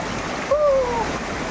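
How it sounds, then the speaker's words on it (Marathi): Water of a hillside stream flowing steadily on a monsoon trek route toward Mahuli Fort, a broad continuous rush with a brief splash or voice-like tone midway. "आपण वाहत्या ओढ्यातून एंट्री करतोय"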